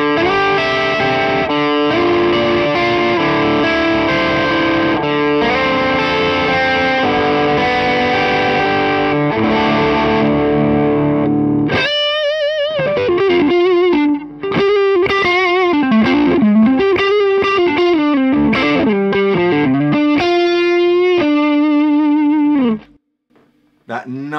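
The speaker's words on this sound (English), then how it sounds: "probably got a lot of gain going on, so he's full tilt, he's that on the bridge pickup" High-gain distorted electric guitar played on the bridge pickup, then the neck pickup: a thick sustained wall of chords gives way to a fast, bending lead run with vibrato, loud and continuous before a brief drop-out at the end.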